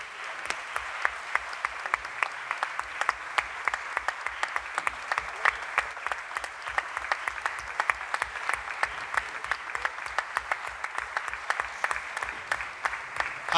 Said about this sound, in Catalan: un altre aplaudiment no aniria malament